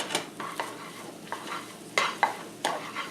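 Eggs scrambled in a frying pan, seasoned with garlic powder: a utensil scrapes and stirs in repeated strokes over a soft sizzle, with sharp clinks against the pan, close and clear.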